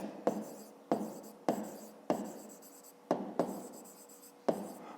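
A pen writes a maths exercise by hand, tapping down at the start of each of seven or eight short, scratchy strokes spaced roughly evenly, close and quiet.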